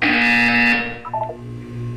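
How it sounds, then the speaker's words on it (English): An electronic buzzer from the video game Portal 2 sounds loud and sustained for about a second, then trails off into quieter tonal blips and a low hum. "When you hear the buzzer, look down at the floor."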